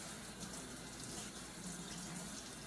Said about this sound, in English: Wash them off in super hot water and soap if needed